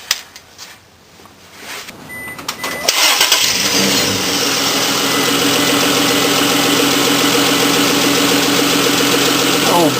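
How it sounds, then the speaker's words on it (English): A few quiet clicks, then a car engine cranks and catches around three seconds in, settling into a loud, steady idle that hums on without pause, after an exhaust Y-pipe repair. "listen to that engine purr"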